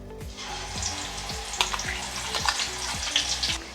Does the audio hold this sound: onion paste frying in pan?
yes